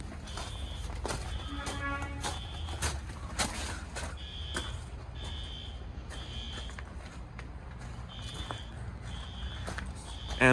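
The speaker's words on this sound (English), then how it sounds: "Fire alarm's going off." A building fire alarm sounds during a test, heard faintly from outside near a shed as a repeating pattern of short electronic beeps over low background rumble.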